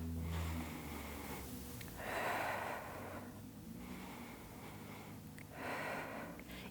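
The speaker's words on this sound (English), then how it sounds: "Big, deep belly breaths." Slow, deep belly breaths taken while lying on the back during a dead bug core exercise, three or four long, soft, close inhales and exhales in a steady rhythm with no talking.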